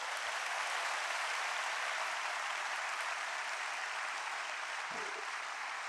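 Sustained applause from a large convocation audience, a dense steady wash of clapping that holds at even loudness throughout with no one talking over it.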